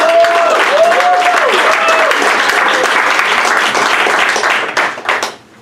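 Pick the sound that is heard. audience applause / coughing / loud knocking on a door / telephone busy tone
audience applause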